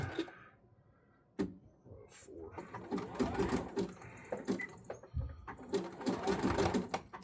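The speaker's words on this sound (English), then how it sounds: "Get a good little back stitch, tack that down, and go around here." Sewing machine back-stitching a wrestling mask, running in short bursts of rapid mechanical stitching separated by brief pauses, close and fairly loud.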